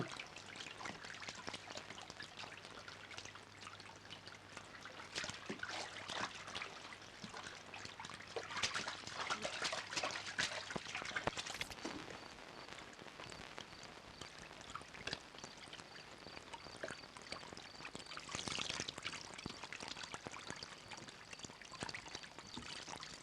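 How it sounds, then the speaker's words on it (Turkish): Water gushes from a burst pipe in a garden in a Turkish comedy film, as a faint, continuous pouring and splashing rush that swells briefly now and then. "Giden ayak su borusu patlamış galiba."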